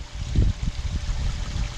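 Water from a backyard pond waterfall tumbles and gurgles in an uneven, bubbling low splash, close up and continuous with no voices.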